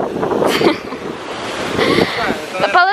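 Sea waves washing onto a beach, a steady rushing surf with wind buffeting the microphone, while voices talk over it.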